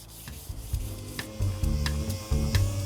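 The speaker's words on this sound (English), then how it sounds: "Gus is sanding with a bit of 240 grit paper." A flat block wrapped in 240 grit sandpaper rubs across a car body panel in quick, repeated rasping strokes, close and fairly loud, over a steady low hum.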